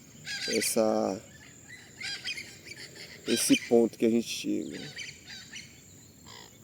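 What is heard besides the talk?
several birds singing outdoors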